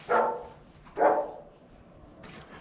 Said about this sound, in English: Quit barking